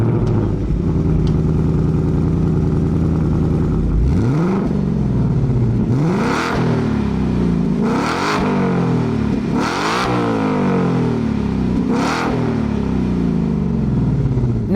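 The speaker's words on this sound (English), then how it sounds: "Here is a startup and rev from the new Mustang GT." A 2024 Ford Mustang GT's V8 starts with a loud flare, then settles into a deep idle broken by five sharp revs that climb and fall back, spaced about two seconds apart.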